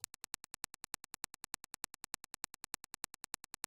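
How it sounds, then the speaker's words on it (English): A sharp digital click sample for Schranz-style drums repeating in a steady rapid rhythm, each hit bright and short with a quick echoing tail, no voices. "Next, we're going to add a clicky thing."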